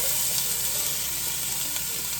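Sun-dried tomatoes packed in oil sizzle in a hot pan, a steady, close, hissing fry that continues without pause and without any voice over it.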